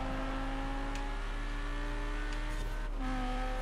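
A race car engine in the racing video game Forza Horizon 4 drones at high revs with a steady harmonic whine, briefly dropping pitch at a gear change near the end, loud and continuous.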